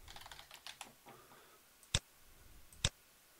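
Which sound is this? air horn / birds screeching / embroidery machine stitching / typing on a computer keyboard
typing on a computer keyboard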